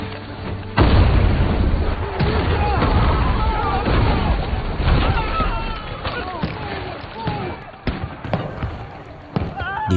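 Gunfire and bomb blasts on a battlefield: a burst of booming impacts and sharp pops opens and keeps rolling in dense, overlapping waves, with loud thumps recurring near the end.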